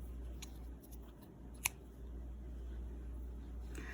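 A pair of scissors snips pink cotton yarn while finishing a crocheted lace shawl edging: one crisp, close cut stands out over a steady low hum, with no talking.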